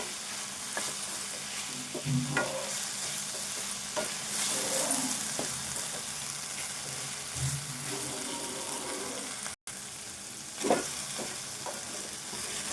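Okra fry being stirred in a pan: continuous crackling sizzle with repeated scraping strokes of a ladle, the stirring coming in uneven bursts over the frying hiss.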